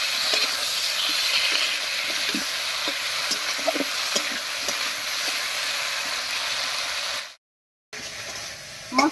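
Potatoes coated in ground dried chilli, cumin and ginger paste are stirred in a sizzling pan for Bengali koi fish curry, with steady frying hiss and scraping strokes of the spatula throughout, briefly cut to silence near the end.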